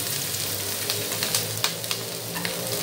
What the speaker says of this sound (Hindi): और इसे मैं फ्राई करना स्टार्ट करूँगी।